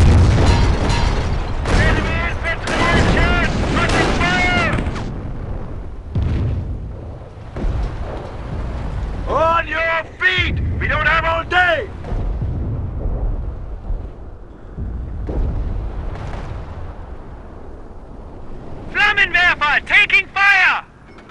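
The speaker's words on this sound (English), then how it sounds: "Incendiary attack is on its way. The whole area will be in flames." Booming explosions from an incendiary artillery strike in the video game Company of Heroes, Falaise Pocket mission, rumble low and loud under shouted in-game voice lines and battle noise throughout.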